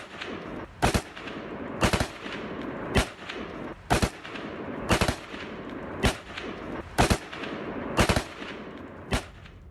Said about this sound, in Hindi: किस तरह फायरिंग हो रही है।